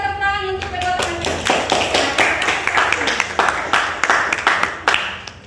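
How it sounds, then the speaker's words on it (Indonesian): A classroom of students claps for two classmates, a lively irregular burst of close hand claps that starts as a voice trails off and continues with scattered loud claps. "kita tepuk tangan untuk kedua temannya"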